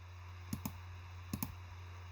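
Four sharp, quiet taps on a phone screen or device while activating a pass in an app, in two closely spaced pairs, over a low steady hum.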